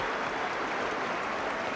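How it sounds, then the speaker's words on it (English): A Reading football crowd at a 1970 Watney Cup match against Manchester United lets out a broad, steady wash of cheering and clapping, dense and even for the whole stretch. "That's got the Reading crowd cheering"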